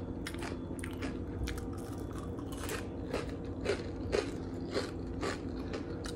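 Close, crisp bites and crunching chews on homemade marunda, crunchy Indian puffed-rice sweet balls, repeating in an irregular rhythm with sharper crackles standing out, no talking.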